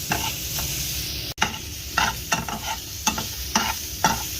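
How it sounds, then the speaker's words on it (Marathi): Onion frying in oil sizzles steadily up close while a spatula stirs it, giving repeated scraping strokes at a regular pace over the continuous hiss. "भाजत राहायचा कांदा. आणि आता थोडंसं किंचितभर ऑइल टाकलं चांगलं भाजण्यासाठी."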